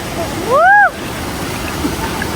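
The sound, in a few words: cold mountain stream water flowing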